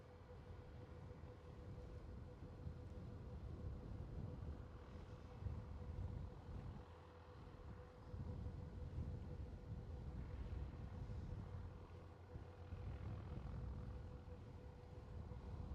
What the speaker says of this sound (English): Was that an aborted, rejected takeoff?